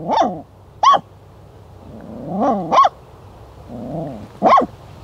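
A stray dog in a forest gives a few short, loud barks mixed with low growls, with pauses between the outbursts and no one talking.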